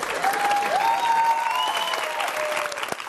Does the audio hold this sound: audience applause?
yes